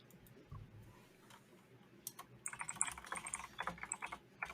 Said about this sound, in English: Insert typing here.